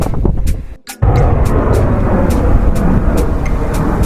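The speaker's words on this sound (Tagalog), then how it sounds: "Ang lakas na ng hangin." Loud, steady wind buffeting a microphone on a hike near Tai Lam Chung Reservoir, Hong Kong, a continuous roaring rush with a brief dip near the start, then sustained gusting throughout.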